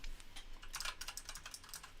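Quick, uneven keyboard typing taps away close by, a steady clatter of keystrokes at low volume during a baseball watch-party stream with no talk over it.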